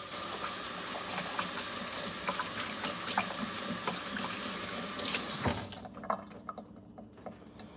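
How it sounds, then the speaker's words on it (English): Hands being washed under a running kitchen or bathroom tap, a steady close rush of water into the sink for about five seconds, then the flow shuts off, leaving a few drips and light handling sounds. "I gotta wash my hands."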